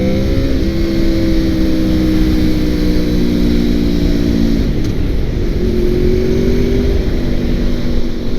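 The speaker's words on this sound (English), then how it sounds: "It has a sharp engine. I like this engine. It's like a rumble to it." A 2002 Honda VFR800 motorcycle rumbles loudly while being ridden around Utica, its engine droning steadily and shifting pitch, dipping briefly midway before climbing again, with heavy wind noise and no talk.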